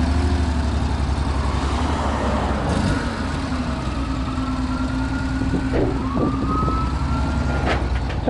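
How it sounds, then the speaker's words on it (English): An emergency vehicle siren wails as it approaches along a road with traffic rumbling, the rising and falling tone growing clearer over a steady engine and road noise. "I hear the siren now. Yep, here they come."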